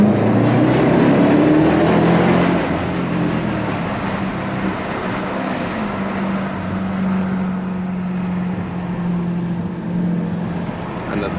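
A Dodge Durango Hellcat SUV roars through a tunnel with the window open, a loud, steady engine drone with a low growl that swells early on and then holds, echoing and unbroken.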